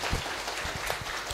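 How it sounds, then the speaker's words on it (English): Round of applause from the audience at the opening of an international academic conference, a brief, even patter of many hands clapping, somewhat distant and soft. "everyone, please give Andrew Lyon a big round of applause."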